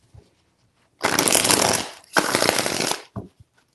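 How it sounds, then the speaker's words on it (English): Tarot cards are shuffled in two long riffling bursts, close and crisp, separated by a short pause, with a few soft taps at the start and end. "Four shuffles."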